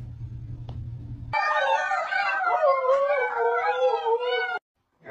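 A dog howls loudly and close by in a long, wavering cry that rises and falls for about three seconds, after a brief low hum, then stops suddenly.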